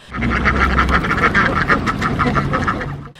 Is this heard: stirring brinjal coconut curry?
no